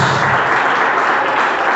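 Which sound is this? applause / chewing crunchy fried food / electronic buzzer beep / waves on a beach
applause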